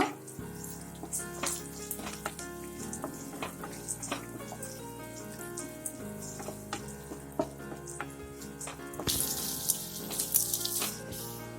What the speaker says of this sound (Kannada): ನೋಡಿ ಇವಾಗ ಈ ಆನಿಯನ್ಸ್ ಎಲ್ಲ ಫ್ರೈ ಆಗಿದೆ